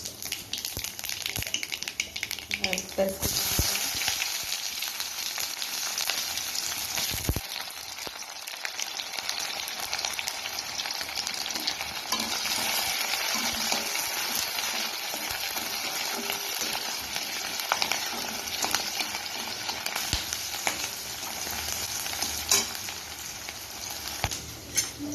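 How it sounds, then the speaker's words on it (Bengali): Steady, loud sizzling of nigella seeds frying in hot mustard oil, a continuous crackling hiss that runs the whole time with no talking. "তেল গরম হয়ে গেছে এবারে তেলে দিয়ে দেবো কালো জিরে"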